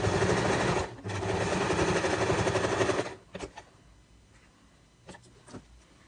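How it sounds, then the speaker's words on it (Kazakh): Sewing machine stitching a seam on a quilt, running in a fast steady whir for about two seconds, pausing briefly, then a short final burst before stopping, followed by faint handling clicks. "Енді біз мына жерден тігіс жүргіземіз, мына жақтан как всегда закреп қоямыз."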